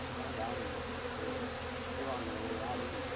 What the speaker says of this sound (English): Friend told me there's bees in the tree